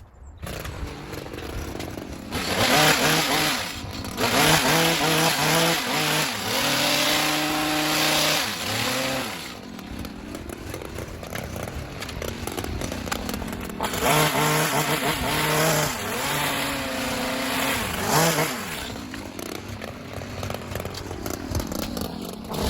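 A powered hedge trimmer buzzes continuously while cutting the top of a tall conifer hedge outdoors, its motor rising and dipping in pitch as it works along the row, loud and close with no talk.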